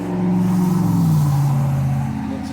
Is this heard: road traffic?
yes